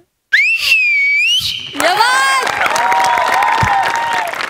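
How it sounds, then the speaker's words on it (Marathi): A loud, shrill whistle rises and wavers over a comedy-show audience, then breaks into sustained applause with more whistling and cheering carrying on above the clapping. "जोरदार टाळ्या"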